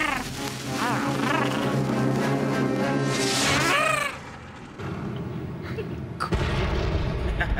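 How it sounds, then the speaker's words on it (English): Fireworks go off at a street event. Whistling rising tones and dense crackling fill the first half, then the sound drops away before a sharp loud bang lands near the end. "Everyone likes fireworks, don't they?"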